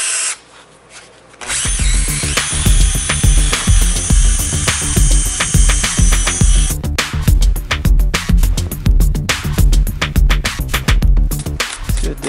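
A handheld drill spins a sanding disc against a car headlight lens, starting after a brief quiet with a loud, steady whirring grind and rhythmic scuffing pulses, then shifting to a choppier, stuttering abrasion toward the end.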